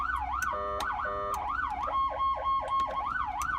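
ULS Typhoon siren tone 1 on a 2019 Dodge Ram Rebel, a loud rapid warbling wail cycling steadily, with a held steady tone and short sharp clicks layered in partway through.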